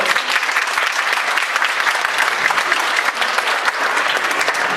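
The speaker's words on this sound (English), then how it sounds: "I think that deserves a round of applause." Steady round of applause from a seminar audience in a lunch meeting room, crisp individual claps blending into continuous clapping throughout.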